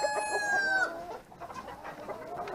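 A farm rooster crows once, loud and close, the call held briefly before breaking off into softer clucking and scattered fowl sounds from a large flock of roosters and hens.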